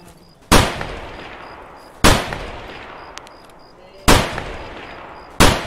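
Four loud, widely spaced single gunshots from Escape from Tarkov ring out near the listener, each with a sharp crack and a long decaying echo, with nothing else prominent between them.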